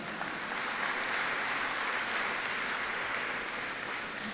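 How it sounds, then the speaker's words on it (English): Sustained audience applause fills a graduation ceremony hall, a dense, even wash of many hands clapping throughout with no break. "Please give them a round of applause."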